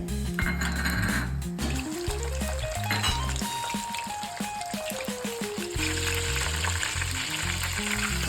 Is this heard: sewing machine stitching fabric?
no